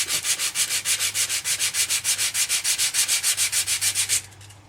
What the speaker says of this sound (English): So now we're going to sand it.